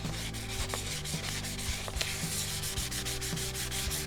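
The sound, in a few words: lightly sanding a light switch plate surface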